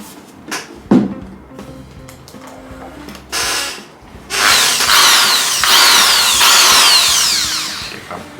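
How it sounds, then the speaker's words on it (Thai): A few light knocks and handling noises, then a power drill whines loudly in several sustained runs as it bores a jack hole into the wooden body of an acoustic guitar, close up. "ต่อไปเดี๋ยวเราจะมา เจาะตรงนี้นะครับ เพื่อที่จะทำเป็นรูแจ็คนะครับ"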